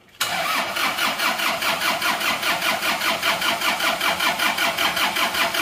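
An engine that has just been repaired cranks and catches, then settles into a steady, loud idle with an even, rapidly pulsing rhythm.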